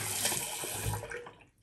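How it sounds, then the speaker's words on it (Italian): Running water splashes close by as a face is rinsed after a wet shave, a brief steady gush of tap water that fades away at the end, with no voices. "adesso andiamo a sciacquarci il viso"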